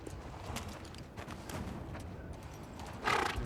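Horse hooves in The Last of Us Part II video game clop irregularly over a steady low rumble, with a brief louder burst near the end; no voices.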